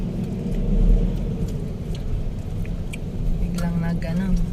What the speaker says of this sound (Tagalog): Biglang nag-traffic.